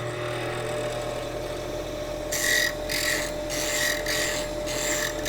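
A heavy diamond-wheel bevel grinder running up to speed, a steady motor hum joined partway through by bursts of harsh rasping grinding that come and go in rhythmic pulses, close and without talk.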